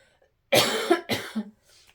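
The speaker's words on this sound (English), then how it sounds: "That's like when I always start coughing now." A few harsh coughs close by, a quick burst followed by a second shorter one, then a faint breathy trailing sound.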